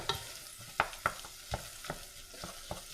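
Garlic and onions sauté in a pan over medium heat, giving a quiet, soft sizzle broken by scattered scraping stirs.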